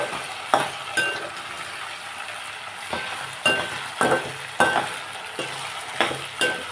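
Potato pieces fry in a pan with a continuous sizzle. A spatula stirs them with regular scraping strokes roughly every half second to a second, close and clear, with no talking.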